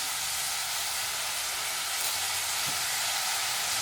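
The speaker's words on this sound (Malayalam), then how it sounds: "കറിവേപ്പില ചേർത്ത് കൊടുക്കാം." Curry leaves sizzle in a hot pan of oil with crushed ginger and green chillies for a Kerala-style beef curry, a soft, steady frying hiss that carries on evenly.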